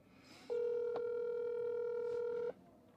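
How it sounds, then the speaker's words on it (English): A single steady phone ringback tone, about two seconds long, clear and fairly quiet against faint background hiss. "It's ringing."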